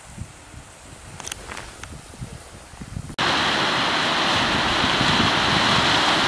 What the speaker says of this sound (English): Another big rapid here on the Pontax River.